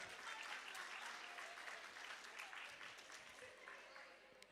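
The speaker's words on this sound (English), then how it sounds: "Let's give a round of applause to our graduates once more." Steady applause from a large audience at a junior school graduation ceremony, honoring the graduates. Dense, continuous clapping holds for several seconds, fairly distant and even, and tapers slightly at the end.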